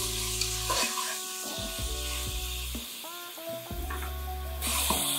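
Beef browning in a pan on the stove, with a steady close sizzle and frying hiss as it sears, set against tonal background music.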